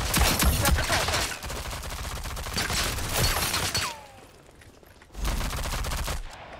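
Gunfire in Rogue Company, loud rapid bursts of shots crackling close by, breaking off into a short lull with a faint descending whistle before another burst of fire resumes.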